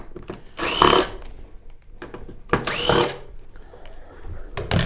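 Screws are backed out of the back plate of a Sony XBR-65X900E television, heard as two short, whirring bursts with quiet handling noise between them, close up.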